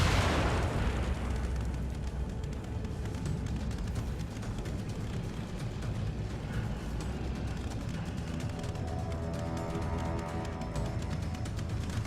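Sustained, rumbling blasts from grenades in the survival-horror game The Evil Within, a loud continuous roar of explosions and debris lasting the whole stretch with no clear gaps between bursts.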